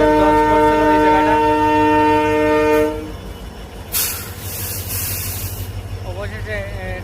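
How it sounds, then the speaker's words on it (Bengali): A train on the Badarpur–Silchar railway sounds a long, loud multi-tone horn for about three seconds, then its cars roll past with rumbling, hissing clatter close by. "অবশেষে ট্রেন চলাচল স্বাভাবিক হয়েছে।"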